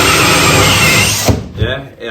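A loud, steady power drill whirs continuously while drilling for a downlight installation, then cuts out abruptly, leaving a few brief bumps and quieter sounds.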